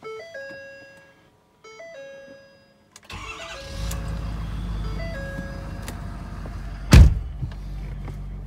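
A truck engine cranks and catches after several chimes and faint clicks. It settles into a steady mid-pitched idle with a sharp clunk partway through, heard close from inside the cab.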